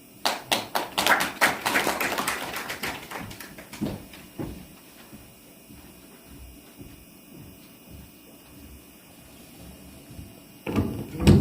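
Audience applause at a Korean sijo poetry collection launch, a burst of clustered claps in the first few seconds that fades into quiet room tone, then a brief renewed patter of clapping near the end.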